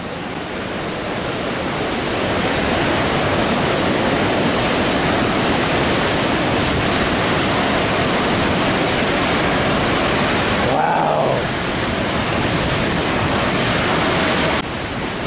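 Rushing river water at Niagara Falls, New York roars in a dense, continuous wash heard close from a bridge, steady throughout with a brief dip near the end.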